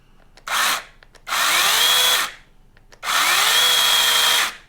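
A Sainlogic 21V battery mini chainsaw whirs up three times in short bursts, each rising to a steady high whine and then cutting off, with quiet gaps between the runs.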